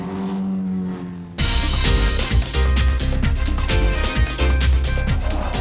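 A Formula Ford race car on a circuit: quiet ambience, then an engine abruptly cuts in loud and close, droning and revving with rapid rising and falling pitch sweeps as it drives the track.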